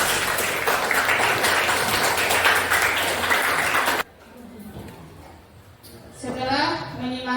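Loud, dense clapping from a class audience during a school lesson fills the first four seconds, then cuts off abruptly, and a person's voice takes over.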